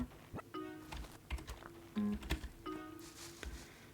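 Computer keyboard keys clack in quick irregular bursts during a session of Animal Crossing New Leaf, close and fairly quiet, with single taps and short runs of presses separated by brief pauses.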